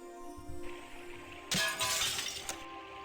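Glass breaking in the adventure video game Zork: Grand Inquisitor: a sharp, bright shatter after a quiet ambient hum, with a tinkling tail and a second smaller crash moments later.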